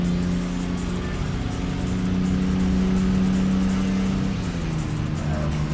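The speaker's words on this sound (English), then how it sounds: "If I rev it high enough and then shift up" Car engine in the racing game Tokyo Xtreme Racer Zero holding a loud, steady high-rev drone with harmonic layers, then the pitch drops slightly near the end as the gear shifts up.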